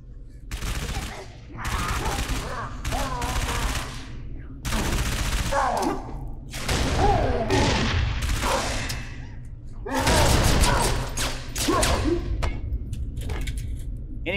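Sound-suppressed weapons fire in Halo 3: ODST in repeated bursts of rapid muffled shots, separated by short pauses, across a loud battle.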